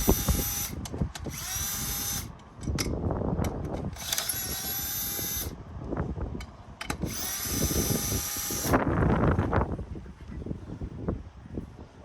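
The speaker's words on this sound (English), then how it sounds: "Look at this, a little drill." A small power drill whirs in three high-pitched bursts of a couple of seconds each, with clanking and handling noises in between, while changing brakes on a Yamaha Kodiak 400.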